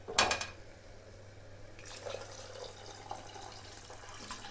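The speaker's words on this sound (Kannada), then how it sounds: "ಇದಕ್ಕೆ ಎಷ್ಟು ಬೇಕೋ ಅಷ್ಟು ನೀರನ್ನು ಹಾಕೋತೇನೆ ನೋಡಿರಿ" Water rinsed from a blender jar of ground spinach paste goes into a hot cooking pot as spinach pulao is made, starting with a short loud splash and then settling into a quieter trickle with faint clinks of the pot.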